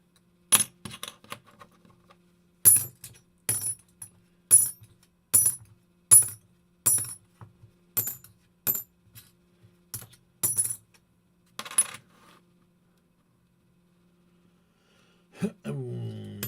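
Half dollar coins drop one after another onto a hard surface, each giving a sharp, bright metallic chink, in a steady run of about a dozen close, clear clinks with short pauses, then a brief rustle at the end.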